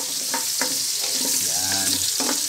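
Garlic and onion for adobo fry in a pan with a loud, continuous sizzle and a few scraping stirs of a utensil up close.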